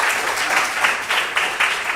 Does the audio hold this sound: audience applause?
yes